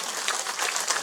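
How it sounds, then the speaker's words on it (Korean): Audience applause at a Buddhist book-launch ceremony in Busan after an unaccompanied vocal performance, a steady dense patter of many hands clapping at fairly even loudness throughout. "여러분 다시 한번 박수 부탁드리겠습니다"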